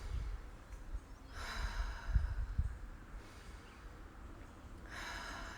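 Slow deep breathing, long inhales and exhales rising and falling as soft airy swells, close and quiet with no talk.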